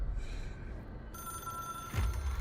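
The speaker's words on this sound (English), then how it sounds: "It is a phone." A telephone rings in the video game Control, a faint tonal ring starting partway through over a steady low background hum, with a louder low thump near the end.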